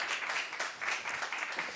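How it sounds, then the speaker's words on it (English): Audience in a conference arena at the South Summit health and wellbeing event in Valencia claps in a brief, fairly quiet burst of steady, dense applause. "So a big round of applause for these guys"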